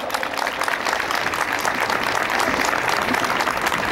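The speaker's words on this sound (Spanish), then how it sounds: "La recibimos con fuertes aplausos" Loud, steady applause from an audience welcoming a female singer onto the stage at a live evening concert, continuous clapping with no gaps for the full stretch.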